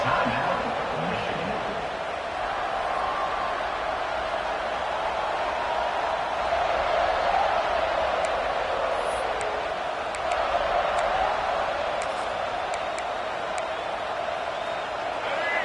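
Video game football stadium crowd, a broad, steady roar of many voices at moderate volume with occasional whoops, sustained throughout under a commentator's voice.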